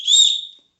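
A single short, shrill whistle blast from a whistle built into an Osprey backpack sternum strap, loud and close, fading out within about half a second.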